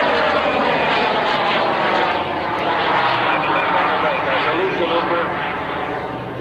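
Bud Light micro jet flying at the 2000 Sounds of Freedom Airshow at Willow Grove, a steady loud engine roar that swells and eases slightly over several seconds, heard outdoors throughout.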